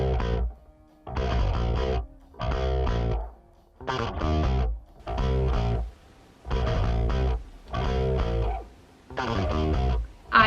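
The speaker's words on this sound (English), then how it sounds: "this sounds like an overdrive pedal" Distorted, overdriven bass guitar playing a repeated riff in short bursts with brief silences between phrases, gritty and loud.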